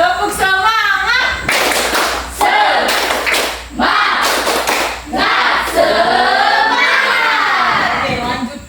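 A class of students doing a rhythmic Indonesian spirit clap (tepuk semangat) in a classroom: several bursts of group clapping mixed with loud chanting voices, steady and close throughout.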